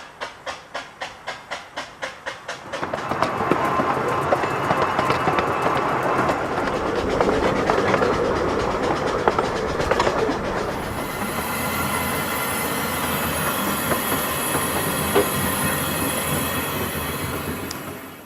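A miniature railway train on the Perrygrove estate railway in Gloucestershire starts with quick chuffing bursts, then rolls steadily along with rattling wheels and a faint high squeal, loud and close.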